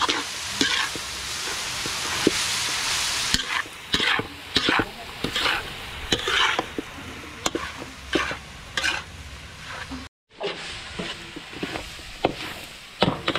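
Sisig being stirred with onions in a hot pan, with steady sizzling and frying under repeated scraping and clattering strokes of a spatula, loud and close.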